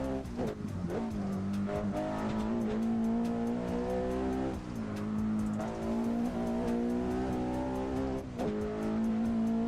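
A Volvo run at full throttle through a Japanese setting in Assetto Corsa gives a loud, steady engine roar that climbs and holds across shifts, with a few quick tire squeals, and nobody talks.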